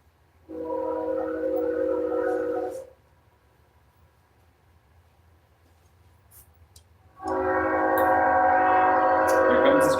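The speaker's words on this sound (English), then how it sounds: "Here comes the train, everybody." A train rumbles past in two loud stretches separated by a quieter gap, with a steady harmonic drone like a horn or engine tone, fairly close.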